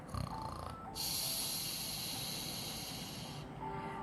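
A person imitates snoring with a long, breathy, hissing inhale, drawn out for a few seconds and fairly close.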